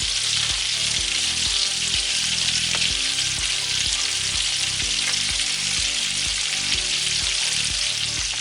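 Homemade meatballs frying in a pan, a loud, continuous close sizzle with crackling throughout, steady and unbroken across the whole stretch.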